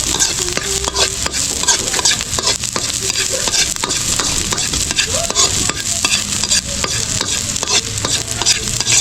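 Garlic and onion fry loudly in hot oil, a dense, continuous sizzle near at hand with constant stirring scrapes running through it and no talking.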